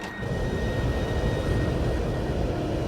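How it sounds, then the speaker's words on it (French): French-built Super Étendard fighter-bomber jets flying low at high speed, a loud steady roaring jet rush filling the whole moment without letup. "Les chasseurs s'approchent à grande vitesse. Ils volent trop bas pour être détectés par les radars."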